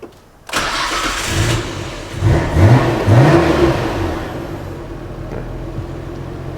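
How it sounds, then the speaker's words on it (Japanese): A 1990s Nissan Skyline GT-R R33 in Midnight Purple, a used car with a weak battery, cranks and fires up, then revs a few times, rising and falling loudly close by before settling toward idle. "内装を見るときはちょっとエンジンもかけちゃおうかな"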